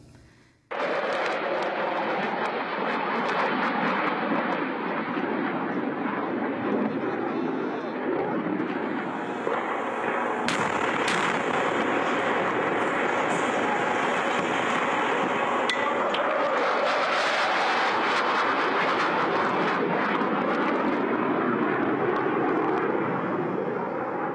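F-16 jets and drones in a massive assault on Gaza in 2008: a loud, unbroken aircraft roar fills the whole stretch, with sharp bangs and thuds striking through it now and then.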